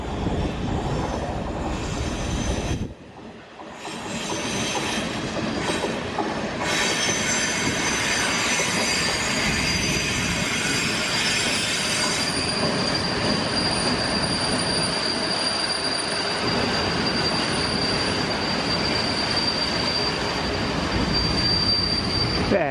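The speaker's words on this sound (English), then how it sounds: "that train sitting on platform 1 is going back to where I come from" Train wheels squealing loudly as a fairly new train moves along a station platform, a sustained high-pitched screech over steady rumbling and rail noise, with a brief dip early on before the squeal continues to the end.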